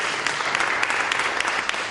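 A town hall meeting audience in DeKalb breaks into steady, dense clapping that fills the room, with a few sharper claps poking through the continuous wash of applause.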